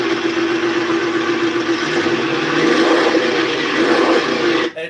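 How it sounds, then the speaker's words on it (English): Oldsmobile engine revving as the carburetor is racked by hand from beside the fender, a loud, rough, sustained mechanical roar that swells midway and cuts off abruptly near the end. "Barry stands right by the fender and racks the carburetor."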